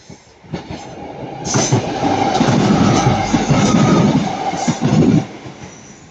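A class 150 diesel train arriving at Ardwick, rumbling in loud and close, its engine and wheels building to a steady roar with rhythmic wheel thumps before easing off near the end.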